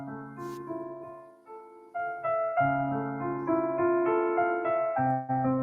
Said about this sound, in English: Very famous piano melody there, right?